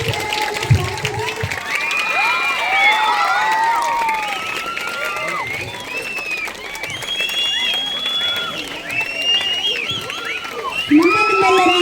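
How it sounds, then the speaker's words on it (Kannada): A school farewell party crowd cheers and shouts with scattered clapping, children's excited voices rising and falling steadily in a large room, loud and continuous throughout. "ಎಲ್ಲರೂ ಜೋರಾದ ಚಪ್ಪಾಳೆಯೊಂದಿಗೆ ಗಣಿಯಷ್ಟೇ ಹಾಗೂ ಮೈಸೂರನ್ನು ಸ್ವಾಗತಿಸಿ"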